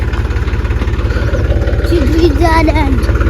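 A tractor engine starting, then chugging loudly and steadily close by, its low rhythmic thumping constant throughout, with a voice speaking over it toward the end.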